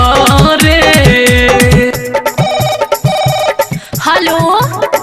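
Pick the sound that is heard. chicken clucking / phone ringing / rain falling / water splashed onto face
phone ringing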